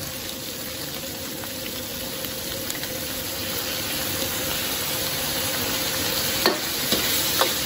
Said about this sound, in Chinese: 炒出红油以后啊，咱们再加入一点麻椒，